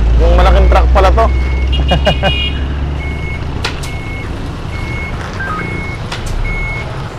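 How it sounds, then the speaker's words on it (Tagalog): A large truck reverses at a Philippine fruit stand selling watermelons and melons, its backup alarm beeping in a steady, evenly spaced series over a low engine rumble while people talk nearby. "Yung malaking truck pala to."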